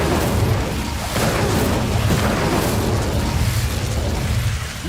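Incendio fire spell cast in Hogwarts Legacy, a loud, roaring burst of flame with a rumbling, explosive body that holds steady and fills the whole stretch without pause.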